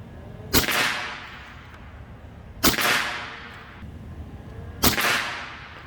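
Three evenly spaced shots from a regulated Kral Arms Shadow PCP air rifle, each a sharp loud crack followed by a short fading echo, with no talk.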